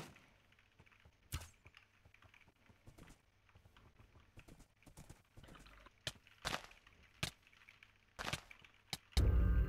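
Horse galloping in Minecraft, a string of sharp, irregular clopping hoof clicks over a quiet game background, ending in a louder burst of noise.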